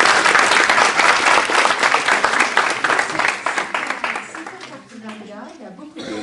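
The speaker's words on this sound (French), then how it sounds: "on peut également l'applaudir" A university audience at a discussion event applauds: loud, dense clapping from a crowd that gradually thins and fades over several seconds, with a voice faintly audible near the end.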